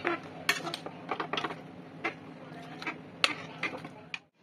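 Cooked Bengali mixed vegetable sour curry being poured from the pot into a dish, with scattered metallic clinks and scrapes of a utensil against cookware, close and moderately loud, ending abruptly.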